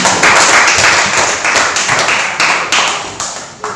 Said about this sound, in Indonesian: Kita berikan tepuk tangan untuk pasangan calon kandidat hari ini.